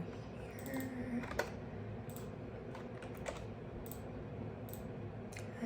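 Someone typing on a computer keyboard while setting up notes, soft scattered key taps and a few sharper clicks, quiet and close against a faint background hum, with no talking.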